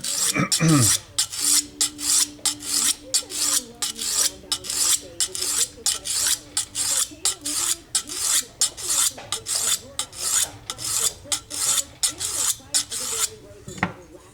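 A knife edge scrapes back and forth across a 400 grit diamond stone in quick, regular rasping strokes, close and crisp, about two strokes per second with a pause near the end.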